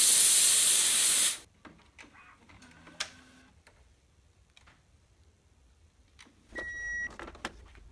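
A burst of steam sprays across an Epson WP-4540 printhead in a cleaning bath, a loud hiss that cuts off after about a second, followed by small clicks and handling noises, then a second hissing burst near the end.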